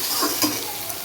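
A soybean and potato curry sizzles loudly in a pan as it is sautéed, with a couple of brief scraping stir strokes close up over the continuous frying hiss.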